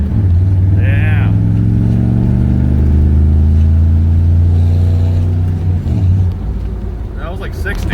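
A Chevy K2500 pickup with a 6.5 diesel pulls hard through first and second gear, its loud engine drone rising in pitch and dropping at the shift before climbing again, with a voice talking over it.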